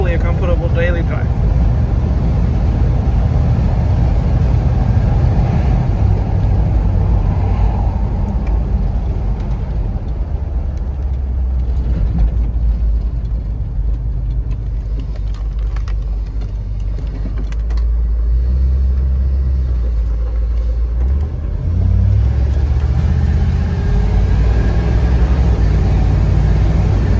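A 1978 Ford Bronco with a swapped-in 460 engine drives along, its deep engine rumble and road noise steady and loud throughout, swelling slightly near the end.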